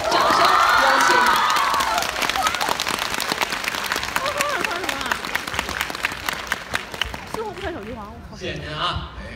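A theatre audience at a Beijing comedy crosstalk show bursts into loud, sustained applause and cheering to welcome two performers, the clapping slowly thinning out as a voice begins speaking over it.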